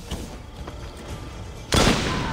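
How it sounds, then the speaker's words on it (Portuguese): A bomb bursts in the Assassin's Creed Revelations video game: low, busy game noise runs for under two seconds, then a single loud, broadband blast hits near the end and rumbles on to the close. "Agora eu vou jogar uma bomba maneira no cara."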